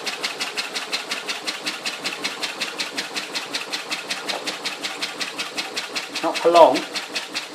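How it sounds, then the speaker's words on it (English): A small steam engine running on steam, chuffing in a steady rapid rhythm close by, with someone speaking briefly over it near the end. "Steam engine running on steam, how about that?"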